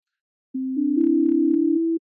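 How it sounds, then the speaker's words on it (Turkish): Three rising electronic tones, like do, re and mi, come from a simple keyboard app built in Snap!, played quickly in a smooth overlapping run with steady pure pitches and no talking. "Yani A'ya basınca do, S'ye basınca re, D'ye basınca mi tuşları çalacak."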